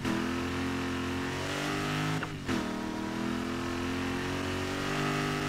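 Continuous car engine drone with steady harmonic tones while driving in Need for Speed Heat, loud and close, briefly cut out by a short gap near the middle before resuming.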